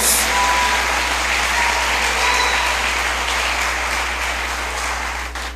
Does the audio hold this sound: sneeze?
no